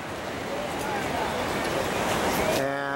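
Ocean surf rolls in on Reñaca beach in Chile, a broad steady wash of waves swelling slightly louder toward the end, with a voice starting to speak at the close.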